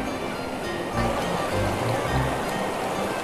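Water rushes steadily between hills at Narhara waterfall, a continuous broad roar with no breaks, close and fairly loud, with no voices over it.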